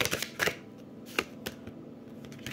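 Tarot cards are shuffled and drawn by hand, giving a few quick, crisp riffling and snapping bursts followed by softer, sparse card taps, close and fairly quiet with no voices.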